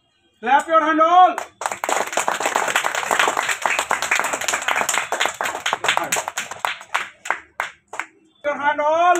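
Children clap their hands together at a Teachers' Day celebration, a lively run of quick, uneven claps lasting several seconds, with a voice speaking just before and just after.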